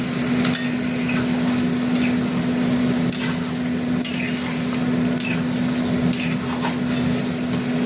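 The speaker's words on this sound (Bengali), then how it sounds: "আলু সিদ্ধ করেছিলাম সেই জলটাই দিলাম।" Water left from boiling potatoes poured into a pan of aloo posto, making a steady close sizzle and bubbling with a low hum underneath and a few light scraping clinks as the mixture is stirred.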